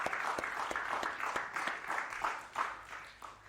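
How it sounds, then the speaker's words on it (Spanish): A church congregation applauds during a service, soft and somewhat distant clapping from a modest group, uneven individual claps blending over a low background hum. "Podemos dar un aplauso bien fuerte a la gloria de nuestro Dios"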